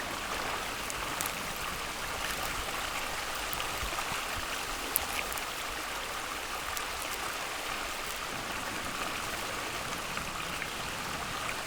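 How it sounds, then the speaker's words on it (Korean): Heavy monsoon rain pouring down at night beside a stream in a wild river valley, a dense steady wash of water and rain with scattered drip ticks and no break. "장맛비가 퍼붓는 밤"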